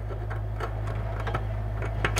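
A torque wrench tightens a brake caliper bolt on a 2003–2010 Porsche Cayenne. A rapid run of ratcheting clicks sounds close and steady over a low background hum, with no talking.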